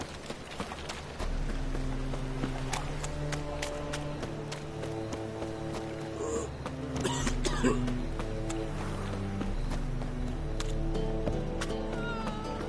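Horse hooves clip-clopping at a steady trot in The Witcher 3 video game, with game music underneath and a brief louder flurry of hoof and horse sounds midway.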